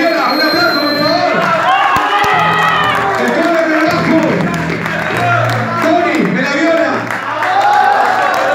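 Audience at a bar gig in Morón cheering and applauding after a rock band's cover song, a dense sustained crowd roar with clapping and whoops, while someone talks over it.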